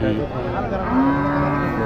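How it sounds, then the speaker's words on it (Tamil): Water buffalo lowing at a busy cattle market, a long drawn-out moo standing out over steady background crowd noise and livestock, continuous throughout. "எரும மாடு கொண்டு வந்திருக்காங்க"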